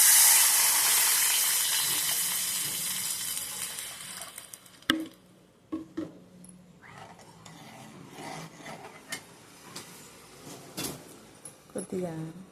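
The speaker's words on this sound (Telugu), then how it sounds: "తాలింపంతా వేయక మంచినీళ్ళు పోస్తుంది." Water poured into a hot tempering for traditional postpartum rasam, a loud rushing hiss that fades steadily over about four seconds, followed by quieter intermittent clinks and faint bubbling.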